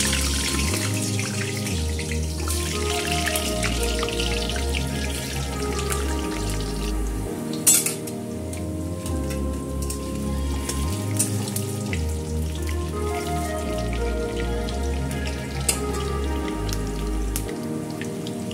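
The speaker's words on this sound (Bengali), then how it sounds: "এবার আমি আলুটা ভেজে নেব মাটনের জন্য" Potatoes frying in hot oil in a pan for mutton kosha, a steady dense sizzle and crackle that continues evenly throughout, close and moderately loud, with a few small clinks.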